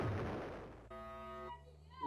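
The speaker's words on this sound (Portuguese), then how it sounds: "Ih, largar uma bomba ali." A bomb goes off in the Roblox video game: a loud, noisy burst for about a second, followed by steady electronic tones.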